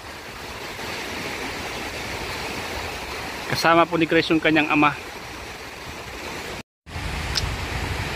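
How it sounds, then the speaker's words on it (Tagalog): Strong sea waves surge around a small fishing outing. A steady, full roar of surf and water runs throughout, and someone speaks briefly over it before a short dropout. "Malakas ang alon mga kalingap."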